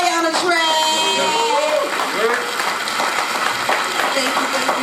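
An audience cheers and claps for the performer at a live event, with whoops and shouts over scattered applause while a voice hollers through the crowd noise.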